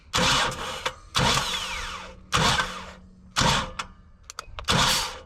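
Starter motor cranking a 1977 Datsun 620 engine without it catching, five loud separate bursts of whirring cranking with short pauses between them, close up.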